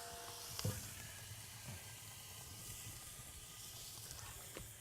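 Flat iron steak sizzles in a very hot pan with a little oil, giving a faint, steady hiss with a brief sharp crackle early on.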